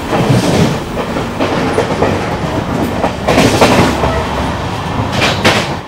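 An Indian passenger train rolls along the rails, loud and close, with a continuous rumbling roar and periodic clickety-clack bursts as the wheels pass rail joints. No voices are heard.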